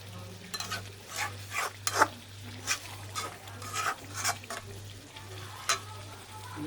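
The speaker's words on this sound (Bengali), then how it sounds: "ভালো করে নাড়াচাড়া দিয়ে মানে মাখাইতে হবে মশলাগুলো" Chicken for biryani is stirred with spices in a hot pan, and a spoon scrapes and turns the meat in irregular strokes over a continuous sizzle, close and with no talking.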